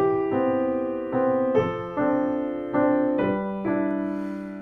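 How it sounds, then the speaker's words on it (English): Solo piano in a bossa nova style, with sustained chords re-struck about every second while the outer voices move against the inner voices, played close and clear with no talking. "It's what I call the outer voices against the inner voices."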